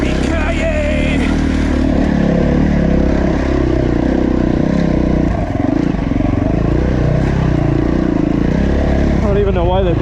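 A dirt bike engine drones steadily and loudly while riding a trail, with a constant rumbling tone and wind buffeting close to the rider, and a voice briefly heard near the end.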